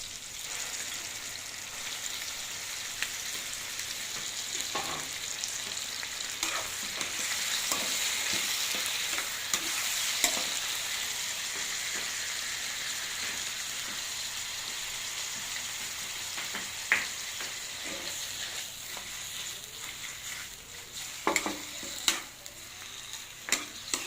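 Squid for adobo fries in a pan with a steady, rain-like sizzle, while occasional clatters and scrapes of a utensil against the pan stand out, louder near the end.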